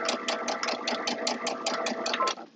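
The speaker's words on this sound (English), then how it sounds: "So now I'm going to sew along here" A sewing machine stitches along a quilt block's seams, running continuously with a steady, rapid mechanical rhythm, close and fairly loud, then easing off at the end.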